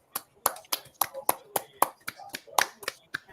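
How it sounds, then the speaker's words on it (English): A handful of sports show hosts clap for Nebraska's football team, giving about a dozen sharp, close, irregular claps over a few seconds. "So, everybody, let's give a round of applause for Nebraska."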